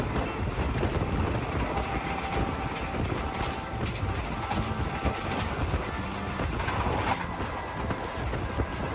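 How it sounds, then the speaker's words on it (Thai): Excursion train 921 from Bangkok Hua Lamphong to Khok Salung running on rails near Chiang Rak Noi station, a continuous moderate rumble with faint rail clatter and wind, no voices. "ตอนนี้ขบวนรถนำเที่ยวที่ 921ต้นทางกรุงเทพหัวลำโพงปลายทางโคกสลุง"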